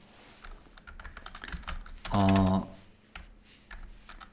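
Clacky gaming keyboard typing, quick and irregular, with a short voiced sound in the middle.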